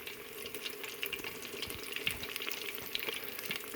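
Food deep-frying fully submerged in oil in a pan, a steady broadband sizzle and crackle with scattered pops, continuous and fairly quiet throughout, with no voices.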